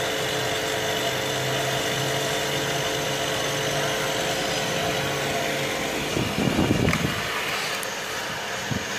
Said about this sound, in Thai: มีพัดลมเป่าทำให้ความเย็นออกมาเป็นแอร์จริงๆนะครับ